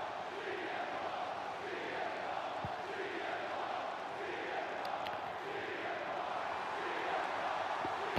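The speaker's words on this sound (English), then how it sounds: "Sounds like the crowd are happy to see him." Sustained wrestling video game arena crowd noise at Clash At The Castle, a broad steady roar of cheering that holds level throughout with a few faint sharp accents.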